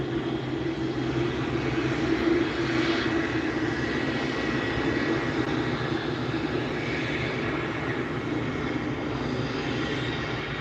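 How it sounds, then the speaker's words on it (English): An Airbus A220 airliner arriving from Seattle roars past a plane-spotting spot at SNA airport, a steady broad engine rumble with a faint tonal whine holding at an even level throughout, with no talk. "That's our Airbus A220 from Seattle."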